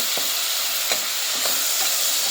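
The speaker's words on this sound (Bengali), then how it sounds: "চিংড়ি মাছটা ভাজি করে নিতে হবে। ভাজি করে এখানে সব কিছু দিয়ে দিব।" Shrimp fry in a pan with a dense, loud, continuous sizzle and a few faint scraping stir sounds, heard close and without talking.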